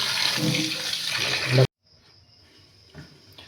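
Tap water runs loudly while raw beef is washed for cooking, a close, rushing splash that cuts off abruptly and leaves faint kitchen noise.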